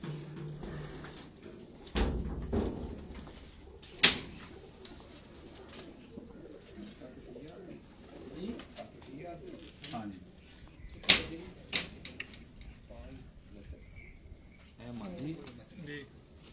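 Pigeons coo repeatedly in soft rolling phrases close by, with a few sharp clicks and knocks scattered through; someone talks over them at times.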